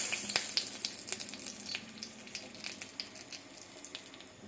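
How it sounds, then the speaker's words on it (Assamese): Dried red chilies and bay leaves crackle and sizzle in hot oil, a bright continuous frying hiss with rapid pops and spits, close and alone without any voices. "এতিয়া থাকি যোৱা তেলখিনিতে মই শুকান জলকীয়া 2 টুকুৰা দি দিম, লগতে তেজপাতো।"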